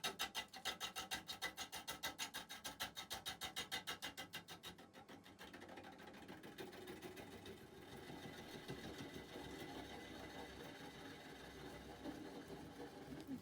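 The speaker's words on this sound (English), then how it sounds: "And in I go for the first cuts on the hollowing side." A woodturning gouge hollows a large, dense Penzance yew bowl on a lathe. A fast rhythmic chatter of cuts comes first, then turns into a continuous rasping scrape over the motor's hum, quiet and steady.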